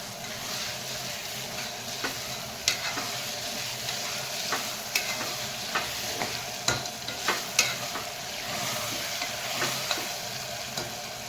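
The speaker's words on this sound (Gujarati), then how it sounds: "આપણે એમાં લસણ વાળું મરચું આપણે એડ કરી દઈશું આપણે ખાંડેલું અને મિક્સ કરી નાખીશું" Cooked bottle gourd with crushed garlic-chili paste sizzles steadily in a pan while a spoon stirs it, giving irregular scraping clicks and taps over the continuous frying hiss.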